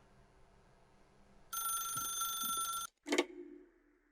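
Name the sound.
telephone ringing in The Stanley Parable video game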